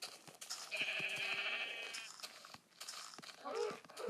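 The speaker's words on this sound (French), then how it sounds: "Un mouton." A sheep in a video game bleats in a short, wavering cry, then bleats again more briefly, with a person talking over the game sounds.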